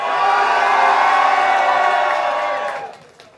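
A studio audience cheers and whoops loudly during a voting round of a televised show, a dense sustained roar of voices that holds for a few seconds, then fades out.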